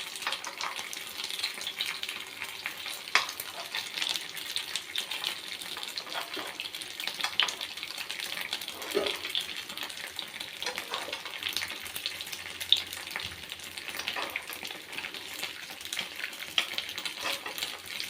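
Aval paniyaram made from flattened rice fries in oil, producing a steady, soft sizzling hiss with scattered small pops that carries on evenly throughout, with no talking over it.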